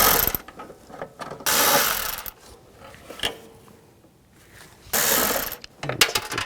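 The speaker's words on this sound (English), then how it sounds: "Take those screws out. Use an 8mm socket." A ratchet with an 8mm socket takes screws out of a 1992-present Ford E-250 blower motor resistor, giving several bursts of rapid clicking separated by quiet pauses and small metallic taps.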